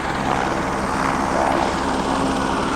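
Helicopter at Kedarnath with a steady, loud rotor roar and broadband wash of air filling every moment, close by, with no voices.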